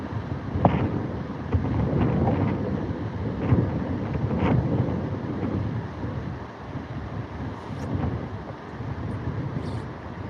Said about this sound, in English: That's the wind, guys.